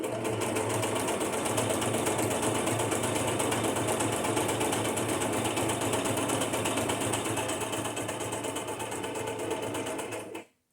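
A sewing machine runs steadily, stitching through paper for a junk journal, a fast, even mechanical chatter close by that stops abruptly at the end.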